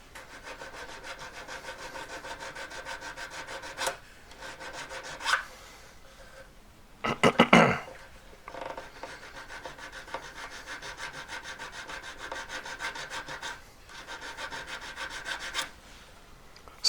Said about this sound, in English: I'm going for a safety back needle file.